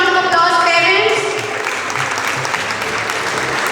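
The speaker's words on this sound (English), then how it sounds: "A huge round of applause, parents." An audience of parents claps loudly and steadily for school children at a school performance, the dense applause sustained throughout with a voice briefly heard over it at the start.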